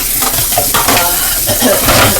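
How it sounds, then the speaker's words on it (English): Dishes being washed at a kitchen sink, with steady running water and repeated clinks of pots, pans and cutlery close by, continuous and busy throughout. "tackle these dishes from yesterday and last night"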